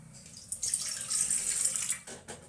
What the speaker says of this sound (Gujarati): એક વાટકો પાણી લઈને તપેલીમાં આપણે રાખશું।